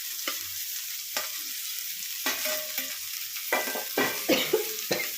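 Diced ridge gourd fries in a pan with a soft sizzle, and repeated stirring scrapes and clacks come in bursts, growing busier toward the end, close and without talk.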